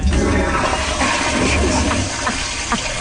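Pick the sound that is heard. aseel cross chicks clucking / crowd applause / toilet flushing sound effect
toilet flushing sound effect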